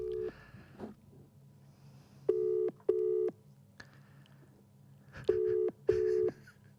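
A phone call placed from a handset, first a few dialing sounds, then four evenly spaced ringback tones in two pairs, each a steady beep about half a second long, with quiet background noise between them.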